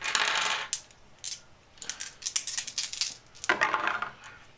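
Dice rattle and clatter onto a table during a Fortress America board game, several quick bursts of tumbling plastic cubes in close succession, loud and near with no talking.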